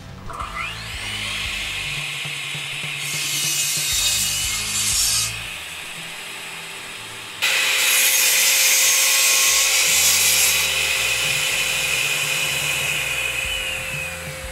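A power saw fitted with a Diablo blade cuts across the grain of red oak veneer plywood in two loud, sustained passes, its whine and rough rasp of wood dominating close up, with no speech.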